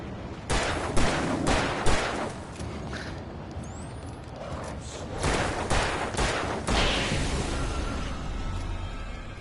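Gunfire in the horror action game Alan Wake: a series of loud, sharp shots in separated bursts with echoing tails, plus a brief whistling streak among them, over dark rumbling ambience.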